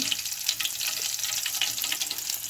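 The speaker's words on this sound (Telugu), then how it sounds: "ఇప్పుడు ఆనియన్స్ వేసుకుంటున్నాను ఒకసారి కలిపి వేసుకుందాం మంచిగా" Onions fry in plenty of hot oil for Hyderabadi green chicken, giving a steady, close, bright sizzle with no talking.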